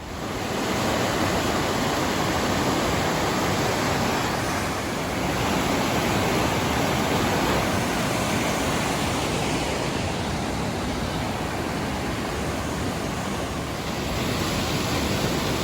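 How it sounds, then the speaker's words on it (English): River rapids and falls at Great Falls near the Billy Goat Trail in Maryland, a steady broad roar of rushing water, loud and unbroken throughout. "Here's some more of those rapids or falls on the other side of the bridge."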